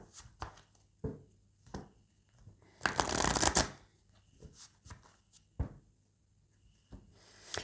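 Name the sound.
shuffling oracle cards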